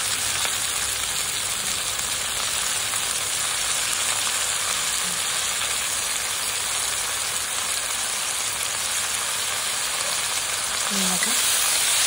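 Chopped radish greens tipped into a pan with browned onion, a loud, steady, close hiss of frying that continues evenly throughout, with a faint stir near the end.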